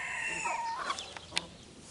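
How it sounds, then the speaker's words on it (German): A three-month-old young rooster attempts to crow, producing a short, thin, wavering crow that trails off, followed by a couple of faint clicks, fairly quiet and alone. "die zwei Hähne, einer von denen kräht schon, versucht schon zu krähen, sind aber erst 3 Monate alt"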